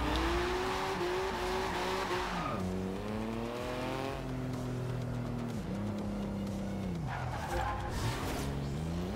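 A 1982 Porsche 911 Turbo 3.3 drift build in Forza Horizon 2, engine revving hard with rising and falling pitch as tires squeal through repeated slides, loud and close throughout.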